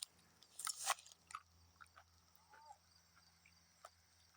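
Teeth bite into a crunchy Ho Chi Minh hot pepper, a Vietnamese-introduced cayenne type, with a sharp crackling crunch up close followed by quieter chewing crunches, no talk.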